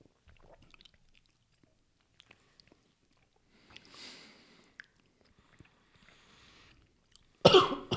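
Mostly quiet with faint small mouth and handling noises, then a sudden sharp cough after a sip of bourbon bursts out near the end, close and loud.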